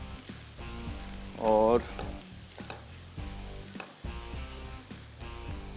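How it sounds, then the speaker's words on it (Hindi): Garlic frying in a pan for a chicken mince dish, a steady close sizzle with stirring scrapes running throughout, while someone talks over it in a cooking show setting. "तो सबसे पहले इसको फ्राई किया लहसुन को"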